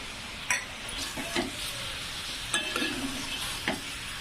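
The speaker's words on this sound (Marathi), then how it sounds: "दोन मिनटांनी चमच्याने हलवत राहायचं चांगला फ्राय होतो" Fish pieces coated with garlic, salt, turmeric and spices fry in a pan, giving a soft steady sizzle broken by a few spoon stirs and scrapes, close and fairly quiet.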